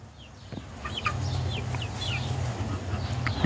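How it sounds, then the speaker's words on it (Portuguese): A young hen (pullet) clucking in a free-range farmyard among other chickens, soft intermittent clucks and chirps over a steady low outdoor hum and background bird calls. "é a polda"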